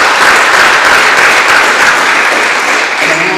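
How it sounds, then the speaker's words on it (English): An audience at a National Honor Society induction ceremony applauds in a loud, dense, continuous wash of clapping that fills the room for the whole stretch. "Give her a round of applause."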